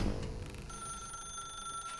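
A phone rings in The Stanley Parable video game with a steady, sustained electronic tone over a low murmuring background, starting shortly into the sound and continuing to the end.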